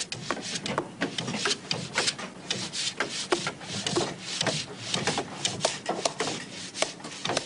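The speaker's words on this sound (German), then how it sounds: "Mit dem altertümlichen Drillbohrer bohrt man Löcher für die geschmiedeten Nägel" An antique bow drill bores holes for forged nails in a wooden boat hull, giving steady back-and-forth rasping and rubbing strokes with no voices.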